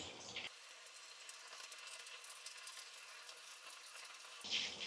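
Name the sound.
semiya-coated chicken sticks frying in oil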